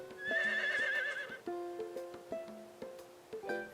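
A horse in the farming game Harvest Moon: Winds of Anthos gives a clear, loud whinny, then a run of tonal game chimes and hoof-like taps follows.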